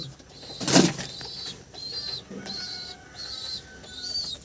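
Pigeons, including Teddy and green Beldanga breeds, coo softly in a loft with a sharp burst of wing flapping early on, followed by repeated gentle bird calls at close range.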